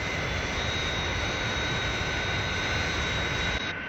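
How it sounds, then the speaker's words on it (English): Jet engines of the Fireflash aircraft roar in a steady, loud, continuous wash of noise with a faint high whine, cutting off abruptly near the end. "That's certainly some aircraft."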